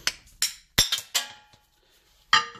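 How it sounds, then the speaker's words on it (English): A hammer knocks the hub out of a Ford F-100 front brake drum, giving five sharp metallic clinks in an uneven rhythm, close and fairly quiet, with short pauses between strikes and no talk. "Just hit it out with a hammer"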